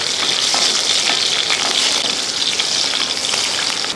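Garlic and three green chilies fry in hot oil in a pan while being stirred, a steady close crackling sizzle with faint scraping that runs through the whole stretch with no voices.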